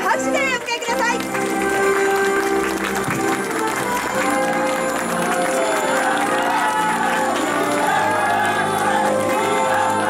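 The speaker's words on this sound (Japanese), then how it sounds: "盛大な拍手でお迎えください" At the Omiya keirin velodrome, a crowd applauds and cheers as the Kuramochi Memorial Cup winner enters the award ceremony. The loud, sustained clapping and scattered shouts blend with music and a voice over the speakers.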